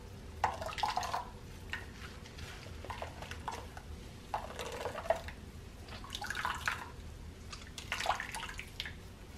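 Homemade milk drips and trickles into a container as the pulp is squeezed by hand, coming in short, close bursts of splashing separated by quiet pauses.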